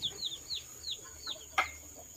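Chickens settled into a freshly built coop give soft, quick clucks and chirps in a loose series, faint and fairly close, with one sharper call near the end.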